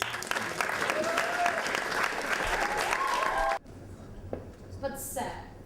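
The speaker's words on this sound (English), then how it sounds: "give a round of applause for Ellie Stamp and Luke Wallens." Audience applause at an acting performance in a bar, dense clapping with some cheering for about three and a half seconds, then cutting off abruptly to quieter room sound with scattered voices and a brief high whoop.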